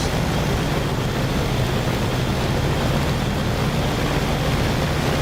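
Propeller engine of a Spitfire warbird in the DCS flight simulator game, a loud, steady, unbroken drone with deep low rumble and broad hiss. It runs alone with no change for several seconds.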